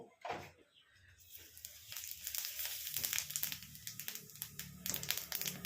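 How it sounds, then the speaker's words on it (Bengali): Cumin seeds drop into hot oil and crackle in a steady, close sizzle that builds and fills the background as a tempering for a Bengali fish dish, with some clatter of a utensil. "এরপর আমি এতে অল্প জিরে ফোড়ন দেবো"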